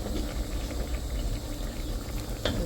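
A pork curry with wolffia (phum) bubbles steadily in a pot, giving a close, continuous boiling hiss with a light clink near the end and no talking.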